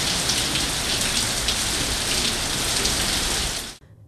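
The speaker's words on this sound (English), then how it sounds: "It's raining cats and dogs in the nation's capital on the first day of the 2018 academic year." Heavy rain falls in a city, a dense, loud, steady hiss of drops on surfaces that continues without a break, then cuts off abruptly near the end.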